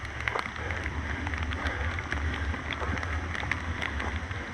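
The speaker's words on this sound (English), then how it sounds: "The sound of rain." Rain falls steadily on a hilly bicycle tour route, a soft continuous patter of scattered drops over a low rumble, faint and without speech.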